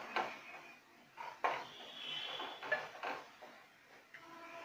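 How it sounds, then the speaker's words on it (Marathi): A spatula scrapes and knocks against a pan while spices and eggs are stirred together for Maharashtrian egg bhurji with onion and tomato. The metallic clinks and scrapes come close and fairly quiet, in irregular bursts with short pauses. "मसाले आणि अंडे आपण मिक्स करून घेऊया"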